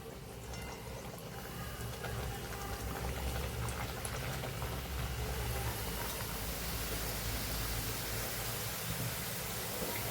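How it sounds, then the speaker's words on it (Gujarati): Wheat and semolina masala puris fry in hot oil over a medium flame, giving a soft, steady bubbling sizzle that stays faint and even throughout. "અહીં આપણું તેલ સરસ ગરમ થઈ ગયું છે તો હવે પૂરીને તળી લેશું"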